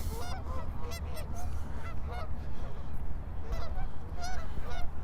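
Several geese honk repeatedly in an irregular chorus by a lake in Regina, close and fairly loud, over a low background rumble.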